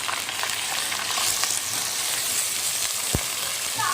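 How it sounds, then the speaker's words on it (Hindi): Minced meat keema hits hot oil over browned onions, giving a loud, dense, continuous sizzle close by with a sharp single clink near the end and no talking. "ये देखिए कीमा डालूँगी।"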